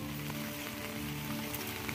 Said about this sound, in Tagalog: May hangin, maulan.